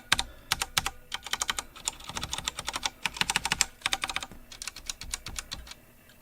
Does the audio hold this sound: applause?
no